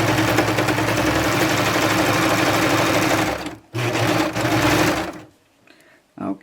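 A sewing machine stitches cardigan fabric, running loud and fast with a dense, steady whirring, pausing briefly, then running again before it stops and a few faint handling noises follow.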